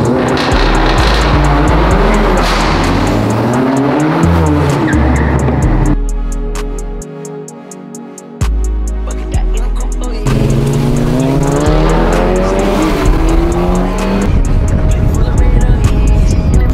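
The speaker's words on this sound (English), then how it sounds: "Your car's too loud." A loud car engine roars and revs up and down, briefly dropping away midway before surging back, close and dominant.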